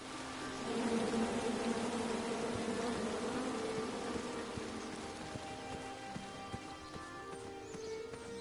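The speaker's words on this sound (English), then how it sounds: "Come at me, bees!" Insect-like buzzing of bees in the video game King's Quest, a continuous hazy drone with faint sustained tones and light scattered ticks, moderately quiet throughout.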